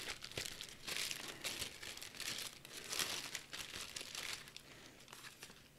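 Paperwork and packaging from a Wham Bam flexible build system kit for resin printers being unpacked and handled, with steady close crinkling and rustling of paper and plastic and a few sharper crunches throughout, no talking.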